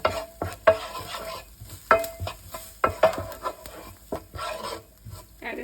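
Ground beef with onions and garlic sizzling in a pan, stirred with repeated sharp scraping strokes over a low steady frying hiss, close and fairly quiet.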